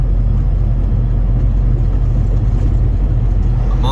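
A 75-foot truck rolls through Oklahoma City in evening rush-hour traffic, a steady loud low rumble of engine and road noise with no clear breaks.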